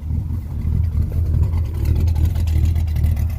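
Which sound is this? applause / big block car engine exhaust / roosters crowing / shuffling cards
big block car engine exhaust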